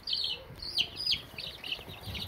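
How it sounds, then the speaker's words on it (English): A golden laced hen gives soft, high-pitched clucks and chirps in several short, irregular bursts nearby, with faint background noise. "So that's a hen."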